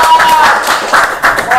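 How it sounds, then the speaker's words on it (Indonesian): A small group claps on cue during an Indonesian podcast about the Viking Batam supporters of Persib Bandung, a short burst of close, loud hand claps with voices mixed in. "tepuk tangan."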